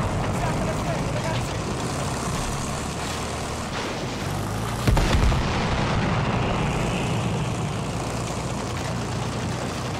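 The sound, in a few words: enemy aircraft in a video game (Battlefield 1)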